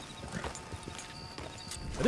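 A stolen horse clip-clops in Red Dead Redemption 2, its hooves giving a run of light, fairly quiet knocks under game ambience, ending in a short rising whinny-like tone.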